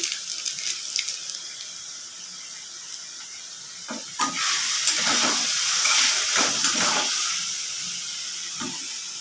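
Chicken in masala sizzles and fries in a pan for a chicken jhol curry, with stirring scrapes and hissing bursts growing louder midway, close and steady with no talk.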